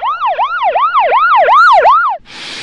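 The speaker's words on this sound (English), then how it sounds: "That's one of the reasons why sirens are so effective at grabbing our attention." A loud emergency siren wails in quick repeating up-and-down sweeps, about six cycles in a row, then cuts off abruptly into a short burst of hiss.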